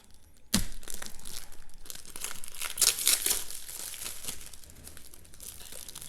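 Protective hologram sticker being cut and peeled from the box of a Pelikan M200 pastel green fountain pen, heard up close as a sharp onset followed by crinkling and tearing, loudest midway, with no talking.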